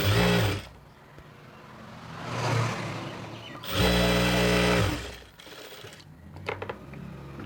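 A tailoring sewing machine stitches the folded hem of an XXL chudi pant in two loud close bursts of rapid whirring, separated by quieter handling and fabric shuffling, ending in small clicks.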